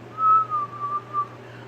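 A person whistles a short, wavering tune in one steady close breath over a low background hum, with no talking.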